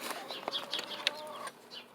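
A broody hen clucks and grumbles in a low, irregular series of soft calls at close range, with a few sharper chirps mixed in and no talking.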